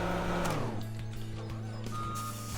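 Reversing beeps from a farm vehicle in Farming Simulator 2017, a single steady warning tone sounding over a continuous low engine rumble, loud and close.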